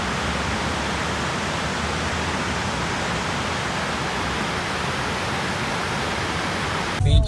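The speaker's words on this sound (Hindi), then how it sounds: "जो पानी की आवाज़ आ रही है अगर आप फील कर पाएंगे तो ज़रा ट्रैफिक में सुनिए" Steady rushing water below a dam beside the Delhi–Mumbai expressway, a dense broadband roar blending with passing traffic, constant and loud for several seconds before a brief bump at the end.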